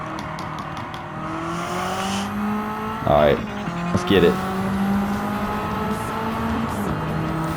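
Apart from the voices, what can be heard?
500hp Mitsubishi Evo engine racing in video game Gran Turismo 7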